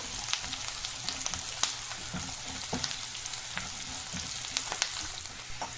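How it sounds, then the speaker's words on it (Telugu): Onions fry in hot oil with curry leaves, a soft continuous sizzle broken by sharp spatula scrapes and clicks against the pan, fairly quiet and without talk. "ఆనియన్స్ మంచి గోల్డెన్ కలర్ వచ్చే కనుక వేయించుకుందాము"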